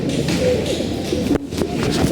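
Pigeons cooing at close range in a loft with breeding pairs on a hot day, overlapping low throaty coos with faint shuffling and rustling.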